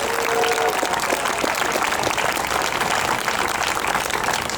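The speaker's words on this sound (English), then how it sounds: "Let's give all our volunteers from all the ridings a big round of applause" A crowd at an outdoor political barbecue in Ottawa applauds the event's volunteers, with broad, continuous clapping and some cheering that wash over everything at a steady level, and a brief tone near the start.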